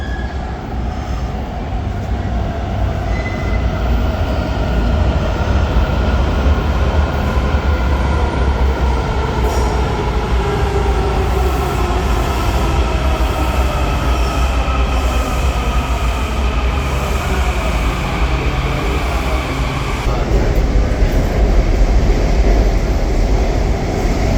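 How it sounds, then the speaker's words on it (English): A metro train in Washington, D.C. rumbles steadily from inside, with rolling wheel noise, faint squeals and a low mechanical drone, no voices heard. "I'm waiting on the train that's going to take us to Union Station"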